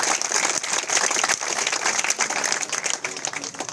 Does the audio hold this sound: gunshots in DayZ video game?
no